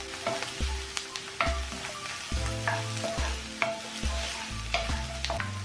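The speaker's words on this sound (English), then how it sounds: "And lastly, add the onion and stir fry it all together for 2 minutes." Onion and mushrooms stir-fried together in a pan for jjajangmyeon, with a constant sizzle broken by rhythmic, close scraping and clanking strokes of the utensil every second or so.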